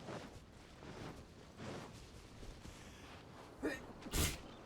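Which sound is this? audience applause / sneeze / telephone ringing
sneeze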